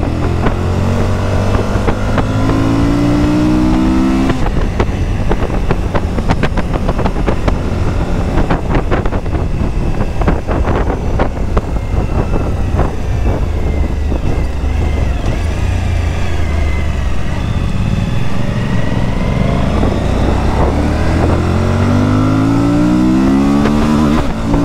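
Suzuki V-Strom 1050 motorcycle, 2023 model, about 230-240 kg, riding on the road: a loud, continuous engine drone with rising revs and gear-change swells near the start and end, and wind rush throughout.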